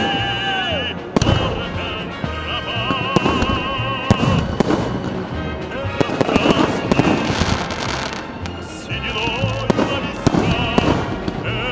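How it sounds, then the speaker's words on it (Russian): Festive fireworks salute bursting over the town of Yanaul, Russia, dense rapid cracks and booms with crackling throughout, loud and fairly near, with faint voices of onlookers underneath. "Параллельно залпы салюта прогремели и в северной части Янаула."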